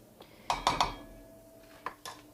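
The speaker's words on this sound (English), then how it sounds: "And just whisk these together in the pan" Cocoa powder and coconut sugar being whisked in a pan: a quick burst of three metallic clinks of whisk against pan, then quiet, then two more lighter taps, close and clear.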